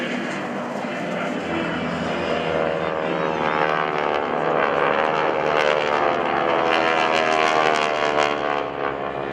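A four-ship formation of GEICO Skytypers propeller aircraft flies overhead at an air show, engines droning in a steady, loud, layered hum with slowly shifting tones and no pauses.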